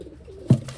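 A single short, low pigeon coo rises out of quiet background noise partway through, close and fairly loud, with no other calls around it.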